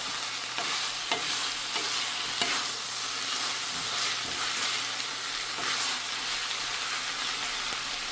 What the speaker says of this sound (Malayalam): സ്വല്പം ഹൈ ഫ്ലെയിമിൽ തന്നെയാണ് ഞാൻ വെച്ചിരിക്കുന്നത് ഇടയ്ക്കിടയ്ക്ക് ഇതുപോലെ ഒന്ന് ഇളക്കി കൊടുക്കണം